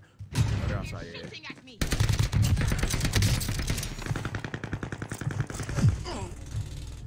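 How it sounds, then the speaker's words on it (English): Heavy automatic gunfire in a first-person shooter battle near a prison, sustained rattling bursts of close, loud shots that keep on with few pauses. "I'm getting shot at from prison"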